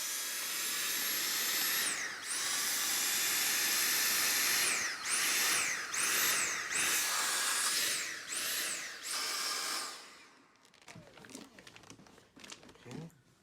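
A vacuum cleaner roars loudly and steadily, its pitch dipping and rising several times as it gets stuck and shuts itself off, leaving clattering and handling noises.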